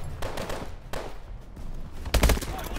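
Gunfire from the video game Call of Duty Advanced Warfare, several bursts of shots scattered across a few seconds, the loudest cluster near the end, over a dull game background.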